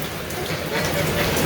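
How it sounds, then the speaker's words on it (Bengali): Rain pours in a Bangladeshi village during the rainy season. A short, steady close-up hiss of falling water grows slightly louder toward the end. "আকাশ অন্ধকার হয়ে বৃষ্টি শুরু হয়ে গেছে"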